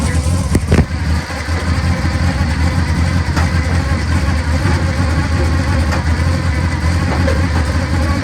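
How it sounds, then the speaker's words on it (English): A 1969 GTO clone's 400 engine with an Edelbrock carburetor idles close by, a steady, loud, low rumble that holds even throughout, with a brief tap near the start. "got a 400 with an Edelbrock carburetor"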